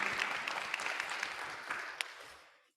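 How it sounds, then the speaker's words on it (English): Audience applause at a leadership conference, continuous clapping from a room of people heard somewhat distant, fading out at the end. "Can we give a round of applause for Amy?"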